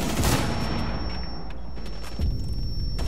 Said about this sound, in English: Shoot through the wall.